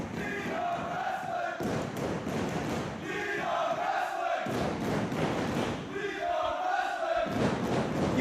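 Pro wrestlers gathered as the crowd at a Beyond Wrestling match in New England cheer the action, loud roars and shouts swelling in waves with thuds from the ring amid a noisy hall.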